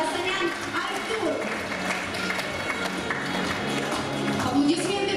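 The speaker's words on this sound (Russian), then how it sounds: "Аплодисменты победителям, самые спортивные, ловкие ребята." An audience applauding the winners of a sports team competition at a Cossack games gala and awards concert, a steady wash of clapping that runs throughout with a voice speaking over it.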